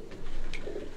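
Caged Sialkot Bateray-breed pigeons coo softly and repeatedly, with low throaty calls close by against a busy background hum.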